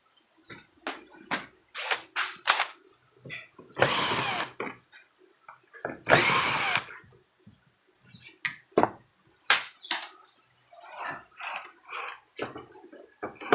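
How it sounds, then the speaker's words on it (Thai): A drill bores out rivets in the roof light of a Toyota Commuter van, with two loud bursts of drilling among clicks and handling noises. "เจาะนัดในตัวไฟออกนะครับ"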